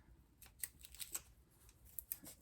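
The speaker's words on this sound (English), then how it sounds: "The ends of these scissors don't actually cut." Quiet, close snips of scissors cutting, a handful of sharp little clicks spaced unevenly against a near-silent background.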